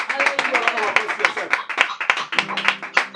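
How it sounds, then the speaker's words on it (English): Church congregation members clap at a Pentecostal service, sharp distinct hand claps in a quick uneven rhythm, fairly close, with a voice speaking over part of it. "Give a round of applause to yourself"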